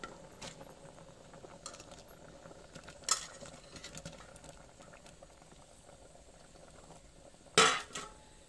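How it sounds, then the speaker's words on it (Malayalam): Pieces of mango and vegetables for sambar dropped into a stone cooking pot, giving two distinct clattering drops several seconds apart over faint background bubbling and handling noise, close by. "ഇനി നമുക്ക് ഈ കഷ്ണം ഈ കൽച്ചട്ടിയിലേക്ക് ഇട്ട് കൊടുക്കാം"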